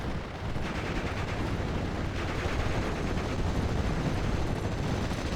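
Sustained heavy gunfire and booming fire from a Churchill AVRE tank and supporting weapons in a WWII strategy game, a dense continuous battle roar with no voices over it.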